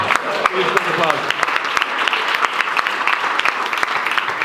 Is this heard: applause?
yes